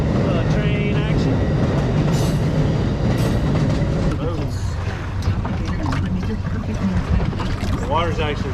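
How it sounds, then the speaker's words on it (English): A train rumbles past near calm water during a speckled trout fishing trip, a continuous heavy clatter with rail squeals, while someone talks over it close by. "Train action."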